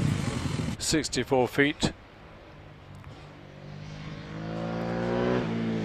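A big Suzuki 1080cc motorcycle races up the Prescott hill climb course, its engine note rising and building from a distance after a commentator talks over a quieter stretch.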